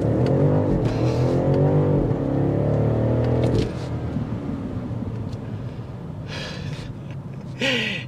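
Hard acceleration from a 2024 BMW X6 M60i SUV in Sport Plus mode: a loud, rising engine roar for about three and a half seconds, then settling into quieter cabin and road noise, with no talking.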